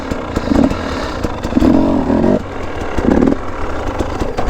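A KTM dirt bike engine runs steadily up close with a buzzing, clattering tone, rising briefly in a few short revs. No voices are heard over it.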